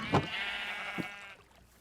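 Sheep bleating in the Minecraft video game, a short wavering bleat near the start and a second brief bleat a moment later, clear and fairly close over a faint steady hiss.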